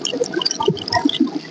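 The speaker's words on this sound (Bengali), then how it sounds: "দুই সাইডে ভালোভাবে ধুয়ে নেবেন।" Something being rinsed by hand on both sides under water, close splashing and gurgling trickles in quick irregular bursts, with no talking.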